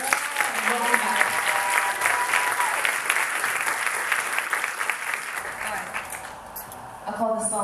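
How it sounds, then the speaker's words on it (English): An audience at a youth summit event gives a round of applause, dense and steady clapping that continues for several seconds with some crowd voices mixed in, thinning slightly near the end. "Once again, give them a round of applause."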